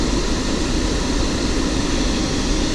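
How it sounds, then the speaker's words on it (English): A refrigerant recovery machine pulls the charge out of an air-conditioning system and pushes it into a tank. It gives a steady, loud, broadband mechanical rush with a low hum that holds constant the whole time, with no talking. "Alright, so I'm just reclaiming this, dumping the charge in a tank."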